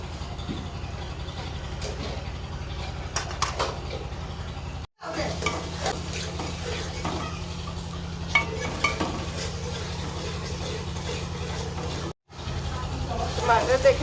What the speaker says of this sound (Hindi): प्याज हमारे ब्राउन हो गए थे, गोल्डन ब्राउन। अब इसमें टमाटर डाल देंगे।